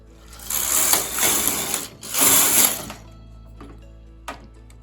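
Knitting machine carriage running two rows of metallic viscose yarn in a weave and tuck stitch project, two loud mechanical rattling passes about a second each, followed by a faint click.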